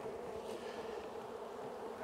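Honeybees hum in a steady, dense drone from an open hive during a spring inspection, a close continuous buzz with no voices.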